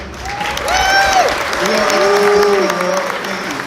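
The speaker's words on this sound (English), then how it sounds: "let's give Brad Kimes a round of applause real quick" Crowd applause at a Las Vegas crypto conference, steady clapping mixed with cheering and whooping voices, loud and full around the listener.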